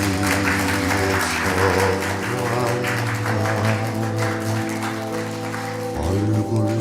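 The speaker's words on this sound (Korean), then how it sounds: "큰 박수 부탁드립니다" An outdoor gathering of religious elders at the National Assembly applauds as Pastor Cho Heon-jeong is called to the stage, a crowd's clapping spread under loud sustained music that plays the whole time.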